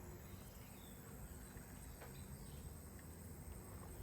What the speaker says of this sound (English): I can even hear the cicadas all going off now.